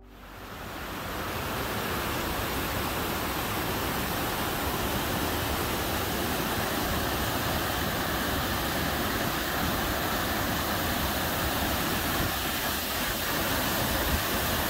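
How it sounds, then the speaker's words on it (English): Water rushing over a dam along the Northern Forest Canoe Trail between Saranac Lake and Lake Champlain: a steady, loud, broadband roar that swells in and holds continuously without voices. "I can hear the dam over there."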